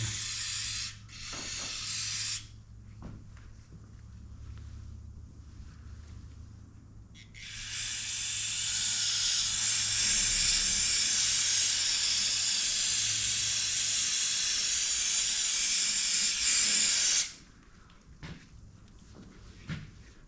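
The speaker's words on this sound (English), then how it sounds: "Spray off the mess it made everywhere." A long, steady spray of aerosol contact cleaner hisses for about ten seconds during a Harley-Davidson Sportster service, preceded and followed by short spray bursts and a few clicks and handling noises nearby.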